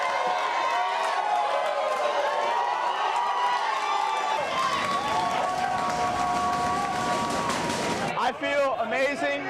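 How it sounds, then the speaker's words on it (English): A game crowd cheers and roars loudly as the clock runs out, a sustained wall of noise with whistles and shouts that swells into excited yelling at the end. "Everything built towards the clock hitting zeros, and the crowd going crazy."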